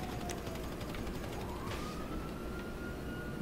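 Police car siren in GTA V Online, a faint wailing tone that sweeps slowly upward and holds, sounding distant beneath steady game noise with no talk.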